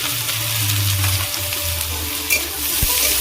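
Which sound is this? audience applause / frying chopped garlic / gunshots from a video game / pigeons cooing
frying chopped garlic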